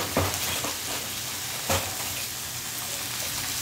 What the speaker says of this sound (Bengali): প্রথমে তেল দিল, তারপরে সবজি দিল, সবজি দেওয়ার পর একটু নাড়াচাড়া দেবে